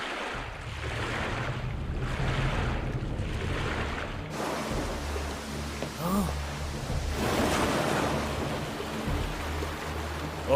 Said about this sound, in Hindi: नदी की धारा बहुत तेज चल रही है